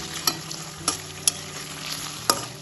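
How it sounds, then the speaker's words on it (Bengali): Paneer lightly frying in about four spoons of hot white oil, a soft steady sizzle broken by a few sharp clinks of a spatula against the pan. "পনিরগুলো খুব হালকা ভেজে নেব"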